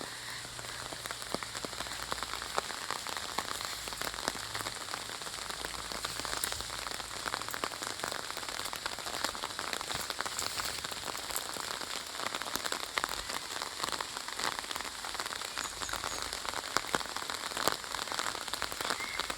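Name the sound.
rain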